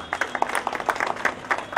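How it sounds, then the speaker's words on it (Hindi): A crowd applauds the film team at a music launch event for the film Hansa Ek Sanyog, giving a short burst of scattered, fairly close claps with no talking. "एक बार जोरदार तालियां हो जाए।"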